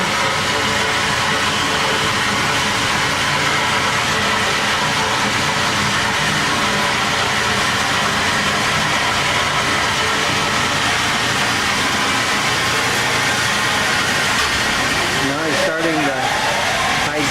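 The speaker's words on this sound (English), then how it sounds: "And now he's turned on the Nesco bowl." A Nesco bowl concentrator running on a gold mining wash plant, a loud continuous mechanical drone and rush of machinery with a narrator talking over it throughout.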